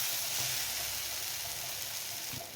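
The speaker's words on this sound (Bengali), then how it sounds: "শিম বাটাটা দিয়ে 2-3 মিনিট নেড়েচেড়ে এটাকে ভেজে নিব।" Mashed flat beans (shim bata) fry in a pan with a soft, continuous sizzle and hiss, steady and fairly quiet throughout with no voices.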